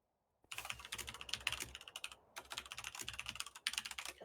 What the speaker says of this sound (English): Sorry for my loud-ass keyboard.